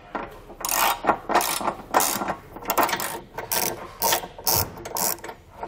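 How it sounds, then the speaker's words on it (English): Ratchet fitted with an 18 mm socket tightening trailer hitch hardware on a 2021 Honda Accord, a series of rhythmic back-and-forth clicking strokes, close and fairly loud, with no talking. "Now we'll come back with an 18 millimeter socket and just get our hardware snugged down."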